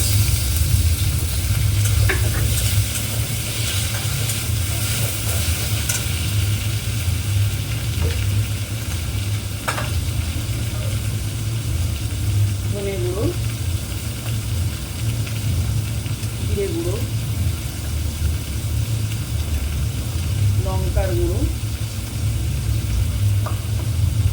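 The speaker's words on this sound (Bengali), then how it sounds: "মশলাটা ভালো করে কষিয়ে নিই" Ginger and tomato spice paste sautés in a pan with a continuous loud sizzle over a low steady hum, broken by occasional scrapes of a stirring spoon and brief faint voices.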